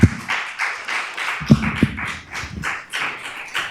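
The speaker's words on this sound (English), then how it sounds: "The applause was warranted." Applause breaks out at a school board meeting, a steady patter of hand claps with a few sharper, louder thuds, continuous and fairly near with no talking over it.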